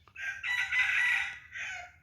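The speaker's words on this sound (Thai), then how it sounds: "มันขันตามทางที่ผมลงมาเมื่อกี้เลย" A decoy rooster used for cockfight-style luring crows outdoors, a loud near cock-a-doodle-doo in two drawn-out phrases with a brief break, no talking.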